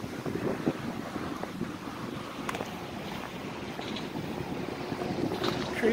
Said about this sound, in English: the wind is getting more fall-like